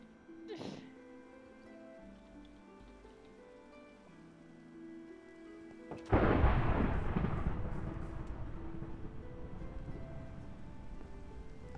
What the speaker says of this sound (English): Apologies, I didn't know it was going to thunderstorm like this.